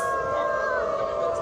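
Several voices howl together in a long sustained wolf-like wail, imitating wolves, loud and close without pause.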